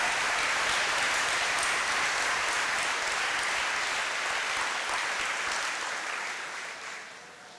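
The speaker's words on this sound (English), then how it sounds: "So let's all give a round of applause to all the family members and faculty that helped facilitate our high school experience." A high school graduation audience applauds family members and faculty, producing a dense, sustained roar of clapping from a large crowd that holds steady and then fades toward the end.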